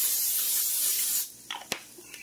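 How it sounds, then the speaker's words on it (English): Cooking spray hissing into a pan for chicken pot pie soup, one continuous close spray burst lasting just over a second, then a few light clicks and taps as the can is set aside, no talk. "I'm going to put a little more spray in here because I'm getting ready to add my garlic."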